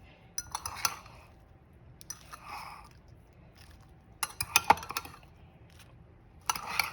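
A fork stirs cooked chicken biryani rice in a pot, giving off quiet, intermittent metallic clinks and scrapes in short bursts separated by near silence.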